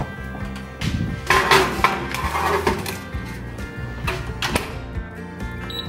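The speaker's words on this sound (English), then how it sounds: "So let's pop it into the oven." A pan of banana bread goes into a home oven, with a metallic clatter of the pan on the rack and a sliding, thudding oven door, heard close over a low steady hum.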